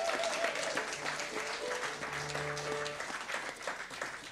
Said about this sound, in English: I think give him a round of applause for that.